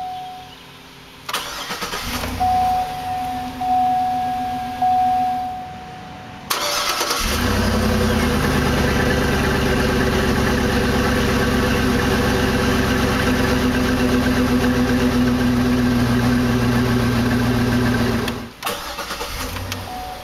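A 2009 Hummer H2 Chrome Edition, a low-mileage large SUV, cranks over and fires, then settles into a steady, loud, rumbling idle through its exhaust for over ten seconds before cutting off, with no talk.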